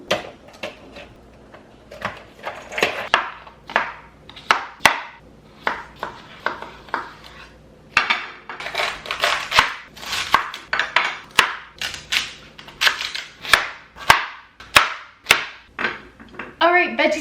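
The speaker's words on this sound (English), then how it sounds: "I'm just going to cut these up in strips" A knife chops carrots and cucumber into strips on a cutting board, giving a long series of sharp, close knocks, sometimes in quick rhythmic bursts and sometimes spaced apart, with faint background noise between strokes.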